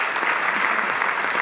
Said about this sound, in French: Vous pouvez l'applaudir si vous vous souvenez d'elle.